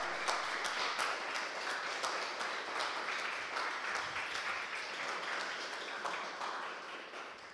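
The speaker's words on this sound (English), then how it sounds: "And please, big applause for Misha." Audience applause following an experimental live performance at a hybrid online and offline event: steady, dense clapping that runs unbroken throughout, moderately loud and slowly thinning toward the end.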